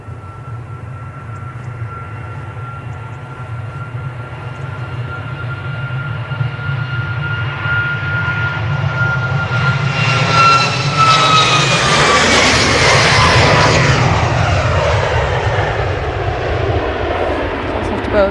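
A jet airliner takes off from Manchester Airport, its engine roar building steadily to a loud, broad rumble as it passes close by. A whining tone sweeps down partway through, and voices talk faintly underneath.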